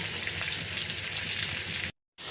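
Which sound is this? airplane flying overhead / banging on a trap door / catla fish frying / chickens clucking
catla fish frying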